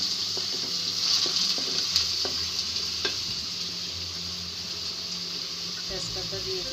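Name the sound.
ginger and garlic paste sizzling in pan with onions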